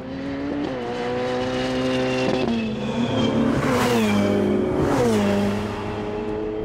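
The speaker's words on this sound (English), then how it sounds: "When it goes off on the road, it sounds partly like a jet more than a car." A 2018 Ferrari 488 Pista engine revs and accelerates through several gear changes, its pitch climbing and dropping, loud and close with a smooth, jet-like roar.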